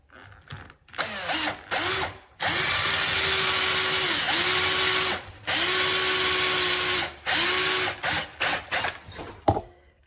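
A power drill bores into a piece of rattan furniture in several long, steady whirring runs, each one starting up, holding a constant pitch and then stopping, with short pauses and clicks between the runs. No one speaks.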